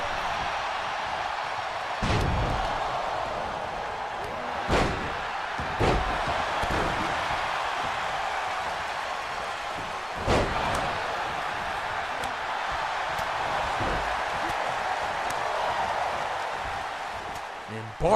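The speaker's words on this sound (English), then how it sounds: "And Barf slamming Cloud again." Wrestling slams from the WWE 2K23 video game land as a few heavy thuds scattered through a steady arena crowd roar, with commentary-style talk running alongside.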